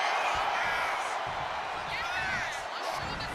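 Crowd noise at a WWE wrestling match featuring Stone Cold Austin, a steady loud roar of cheering that fills the whole stretch without pause.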